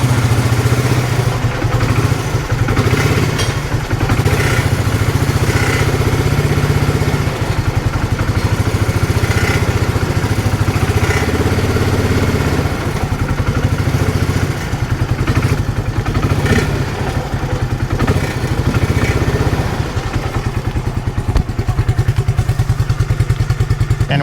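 A Porsche 944 engine runs steadily with a low, close rumble as the car drives out of a shop, broken by occasional thuds and clattering as it moves.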